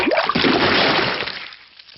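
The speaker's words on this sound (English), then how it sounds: "Peppa has thrown the muddy water all over the car." Muddy water thrown all over a car in a Peppa Pig cartoon makes one loud, close splash that sprays and sloshes for about a second and a half, then fades to quiet.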